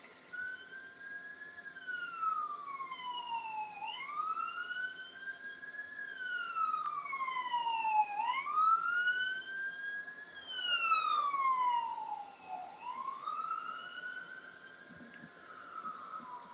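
An emergency vehicle siren wails in long rising and falling sweeps, repeating steadily and fairly loud, with no talk over it.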